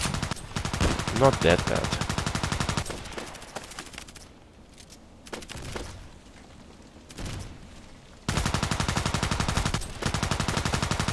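Heavy gunfire from a DT SRS sniper rifle in Contract Wars, loud and dense at the start and end with a quieter stretch between, while someone talks over it.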